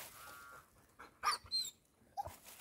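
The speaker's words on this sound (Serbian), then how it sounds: "Ona je gore laje, ovaj zajep." A hunting crossbreed dog in training for wild boar barks from some distance uphill, a few separate yelps and barks over quiet outdoor ambience.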